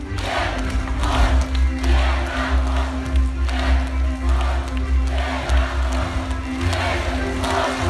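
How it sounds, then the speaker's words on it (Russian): A large crowd at an outdoor opposition campaign rally in Bobruisk, Belarus, claps and cheers loudly and continuously, with rhythmic chanting surges over a constant low hum. "Друзья, аплодисменты!"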